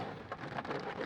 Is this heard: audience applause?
no